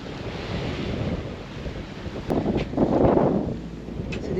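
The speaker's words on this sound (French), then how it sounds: "C'est des vagues courtes." Short, choppy waves in a lagoon off Fiji are heard from aboard a sailboat, washing and slapping against the hull under heavy wind buffeting on the microphone, with a louder surge of water partway through.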